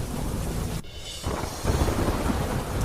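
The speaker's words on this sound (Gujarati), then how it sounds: "ધોધમાર વરસાદથી રસ્તાઓ પર નદી જેવા દ્રશ્યો સર્જાયા" Heavy downpour pouring over village roads in Dwarka, Gujarat, with a low rumble of thunder, a steady broadband roar of rain that briefly drops near the one-second mark before returning loud and continuous.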